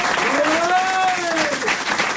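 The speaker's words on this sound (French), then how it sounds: "Non, franchement, ça s'applaudit pas" Audience applause in a comedy show, a short burst of crowd clapping mixed with a voice rising and falling over it.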